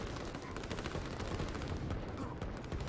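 Artillery and infantry gunfire from a real-time strategy line-war battle, a dense continuous barrage of overlapping shots and rapid fire with faint voice underneath.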